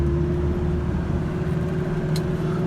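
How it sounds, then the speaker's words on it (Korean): The idling engine of a 2000 Hyundai Libero truck hums steadily at close range, a low, even drone with a faint tonal whine and a brief small click partway through. "엔진이 주는 소리를 들어보면요, 네, 차 소리 괜찮아요."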